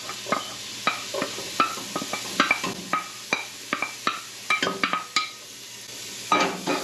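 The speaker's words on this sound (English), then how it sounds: "it is sizzling, so let's go ahead and add our chopped up onion and our grated carrot" Chopped onion and grated carrot sizzle in hot oil in a pan for marinara sauce, with a steady soft frying hiss beneath repeated sharp scrapes and taps of a utensil stirring them around.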